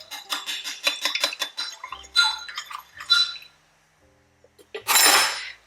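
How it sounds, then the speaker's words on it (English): A utensil stirring a vinegar mixture in a bowl, with rapid rhythmic clinks against the sides, then a few separate knocks and a pause before a louder scraping swirl at the end. "Forgot we need to give this a stir."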